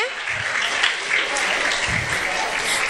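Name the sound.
applause for a student receiving a prize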